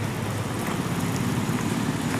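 Light rain drizzles over the NH 66 roadworks site at Randathani, where drainage work runs beside the service road. It makes a steady, even patter and hiss with no voices.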